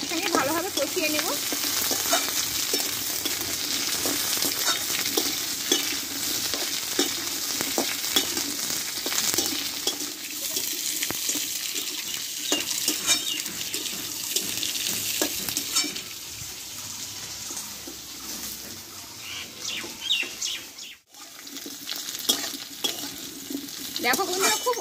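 Potatoes and pointed gourd fry in a pan while being stirred, a continuous close sizzle with repeated spatula scrapes and stirring clatter that pauses briefly near the end.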